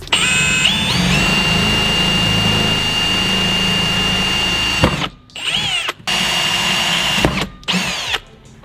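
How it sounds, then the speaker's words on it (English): A power drill whines steadily and loudly for several seconds while drilling bolt holes, then stops and restarts in a few short bursts. "Drill a couple holes in there, flip it over, drill the same holes on the other side."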